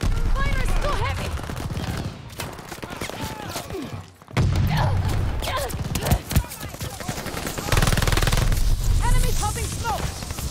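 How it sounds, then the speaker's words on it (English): Heavy gunfire in a Call of Duty: Vanguard multiplayer free-for-all match, dense rapid bursts and rattling shots nearly continuous and loud, briefly dropping out before resuming, with voices shouting over the shooting. "I can't move! Fire is too heavy!"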